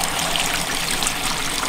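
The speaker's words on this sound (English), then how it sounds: "I'm gonna fill it up with water right now just to give it a little test" Water pours into a backpack sprayer tank, a steady close rushing trickle that stays even and continuous with no other sounds.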